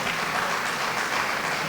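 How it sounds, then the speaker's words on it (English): Steady, dense applause fills a large hall as a conference audience claps for a speaker at a national business event, a continuous wash of hands at moderate loudness with no voices over it. "I expected the whole house to clap"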